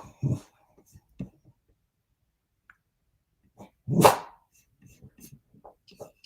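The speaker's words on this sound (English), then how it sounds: "My dog wants me to move to the couch. He's getting angry at me." A pet dog barks angrily at its owner on a couch, giving a couple of short, muffled yaps followed by one loud, close bark, with quieter scattered sounds between.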